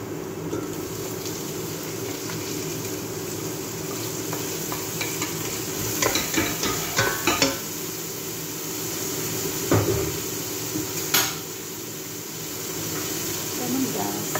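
Red and green peppers are stirred in a sizzling pan. Steady frying hiss runs throughout, with a short cluster of utensil clatters and scrapes partway through.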